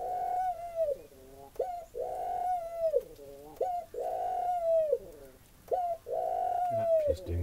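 A male Eurasian collared dove coos close and loud, his chest and throat puffed out, in a run of about six drawn-out, tonal coos with brief gaps between them.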